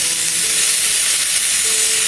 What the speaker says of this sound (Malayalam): ഈ സവാള നന്നായിട്ടൊന്ന് വഴറ്റിയെടുക്കാം.